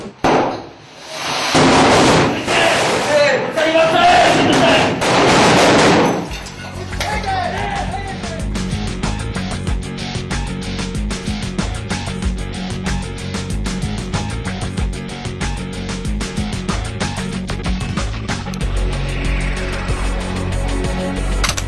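Shouting and explosions during a tactical action by a police rapid response unit: a burst of loud blasts and yelling for several seconds, then a dense rumbling, clattering mix of bangs and noise continues.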